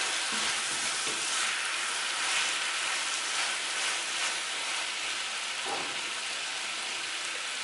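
Chicken pieces fry in a hot pan with a loud, dense, unbroken sizzle like heavy rain, close and steady throughout with a faint stirring scrape near the end.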